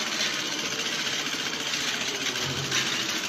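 A sewing machine fitted with a makeshift improvised fix runs steadily, a continuous whirring, motor-like drone with a faint rattle, close and unbroken for the whole span, with no talking.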